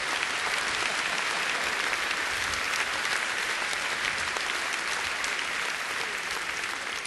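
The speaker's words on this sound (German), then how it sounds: "Das ist einen Applaus wert." A large audience at a comedy show applauds continuously, a broad, even wash of clapping heard from a distance with no speech over it.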